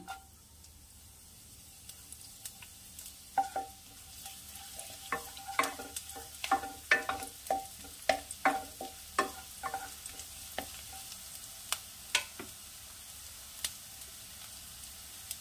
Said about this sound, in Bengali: তেল গরম হয়ে গেছে, দিয়ে দিচ্ছি রসুন কুচি।